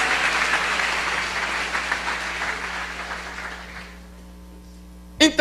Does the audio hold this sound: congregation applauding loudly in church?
yes